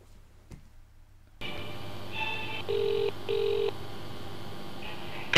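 Telephone call to TV licensing: after a quiet moment a steady line tone starts, then several short dialing tones and ringback pulses follow in sequence, fairly loud and clear without talk.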